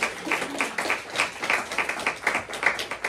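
A church congregation claps in a fast, even rhythm, many hands together at moderate distance, steady beats for a few seconds with a faint murmur of voices underneath.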